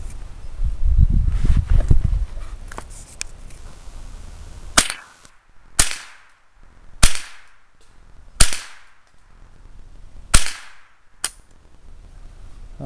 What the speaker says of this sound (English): I'm going to go ahead and take some shots off at the little jugs we got set up over here.